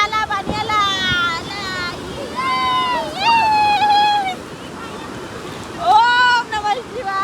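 Sea waves wash in at the shore at Somnath beach on a breezy evening, a continuous rushing wash that rises and falls under several people's lively, overlapping voices.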